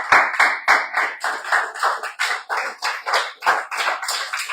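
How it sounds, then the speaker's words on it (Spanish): Church congregation clapping hands for the Lord in rhythmic, loud applause, strong regular beats repeating steadily with no talk. "¿Quién le puede dar un buen aplauso al Señor allí, hermano?"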